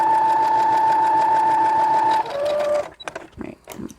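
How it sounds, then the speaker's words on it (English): A sewing machine runs steadily while top stitching a doll backpack, a close, even mechanical whir that shifts pitch briefly near the end and then stops, leaving quieter handling sounds. "she says in the pattern that doing the 2 rows of top stitching will keep it from rolling."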